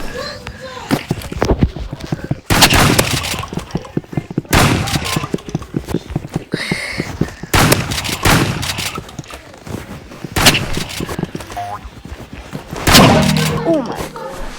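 Video game gunshots, loud repeated bursts of rapid firing with thuds and impacts, close and dense, with a person talking excitedly throughout.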